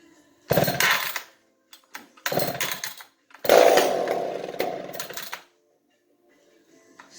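Vintage chainsaw with a heavy flywheel, sitting unused for months, pull-started: two short rasping bursts from the cord pulls, then the engine catches and runs briefly, loud and close, before cutting out to near silence.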